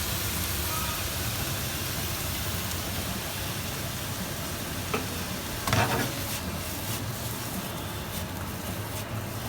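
A stir fry of vegetables with soy sauce and sweet chili sauce sizzling steadily in a hot pan, a continuous hiss with a few brief clatters of stirring midway.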